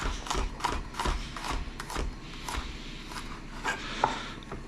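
Knife chopping vegetables into same-size pieces on a board, a run of close, fairly loud, irregular thuds with short pauses, no voices.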